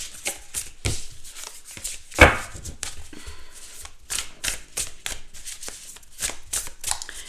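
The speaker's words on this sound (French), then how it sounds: "on va mélanger le jeu" A Cozy Witch tarot deck by Amanda Lovelace being shuffled by hand, with a steady run of close, crisp card riffles and slaps repeating throughout, no voices.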